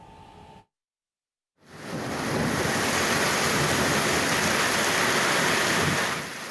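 Flash flood in Cikande village, Saguling, West Bandung, West Java: heavy muddy water carrying soil and stones rushes through a flooded residential area after torrential rain. After a brief gap, a loud, steady, broadband roar of churning water fills the scene without talk.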